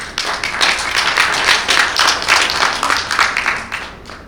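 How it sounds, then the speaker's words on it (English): Audience applause at a conference session on digital skill-building in the Mekong Delta: dense, steady clapping from a crowd, loud and close, sustained throughout and tapering slightly at the end. "I want a huge round of applause for you soon"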